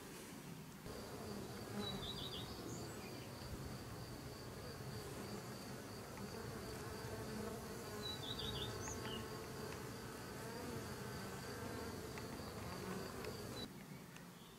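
A steady, dense buzzing of many honeybees fills the air continuously, with occasional faint chirps from birds in the distance.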